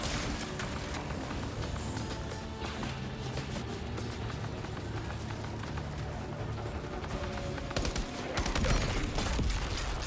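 Gunfire crackles through a firefight in Death Stranding 2, rapid overlapping shots forming a steady fusillade at moderate distance, with a heavier flurry toward the end.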